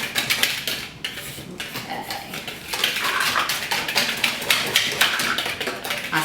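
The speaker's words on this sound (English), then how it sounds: "And then you are going to whisk it together and make sure we get all the clumps out" A whisk clatters briskly against a mixing bowl while slime ingredients are stirred to remove clumps, a fast, close scraping and tapping rhythm that runs continuously with a short pause near the start.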